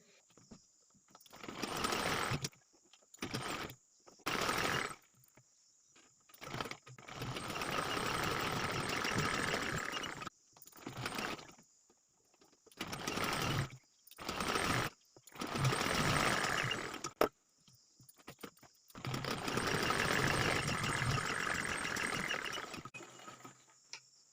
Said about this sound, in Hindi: इसे भी इस तरह से उल्टी करके नीचे से सिलाई लगा लेंगे